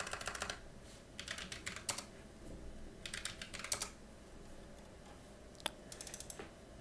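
Fingers type on a computer keyboard in quick clattering bursts of keystrokes, separated by short pauses and a single sharper click, close and fairly quiet.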